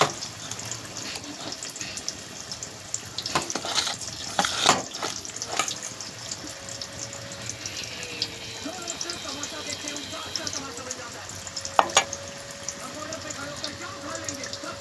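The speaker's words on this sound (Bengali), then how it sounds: "আবার ছেলের জন্য ভাজা হচ্ছে" Pakoras fry in hot oil, giving a soft, steady sizzle with occasional clinks and splashes, while people talk nearby.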